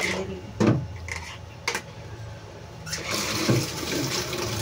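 Water runs steadily from a tap in a home kitchen as raw pork is rinsed, with a few sharper splashes and clatters, fairly faint and close.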